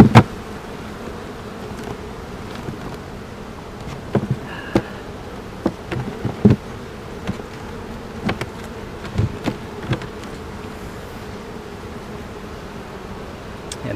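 Honey bees swarm around an opened hive being cut down from a ten-frame box to a nuc, giving a dense, steady buzz with scattered knocks and clicks of frames and equipment.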